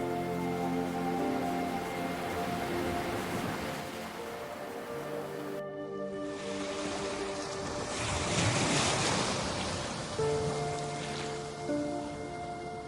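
Ocean waves crash and surge below Dunnottar Castle on the Scottish coast, a steady loud roar of surf with wind buffeting the microphone and no voices.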